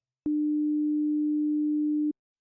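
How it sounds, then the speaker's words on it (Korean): A pure 300 Hz sine test tone plays alone, a steady, clean hum lasting just under two seconds with sharp starts and stops. "대충 300Hz의 사인파를 쏴보자고요"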